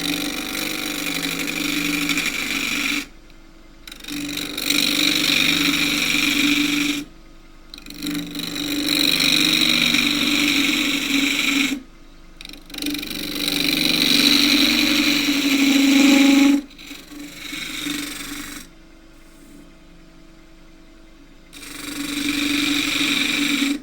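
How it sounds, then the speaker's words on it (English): A 1-inch skew chisel takes a peeling cut on spinning wood on a lathe, a sustained loud whirring hiss repeated in several long passes broken by short silent gaps. "This is a 1-inch skew chisel used for a peeling cut."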